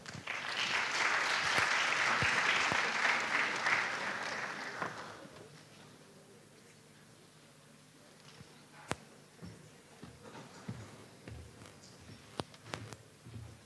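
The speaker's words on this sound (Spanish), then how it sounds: "Un aplauso." An audience at a kinesiology student congress applauds, dense steady clapping for about five seconds that fades out, followed by quieter room noise with scattered thumps.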